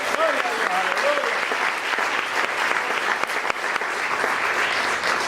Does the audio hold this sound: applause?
yes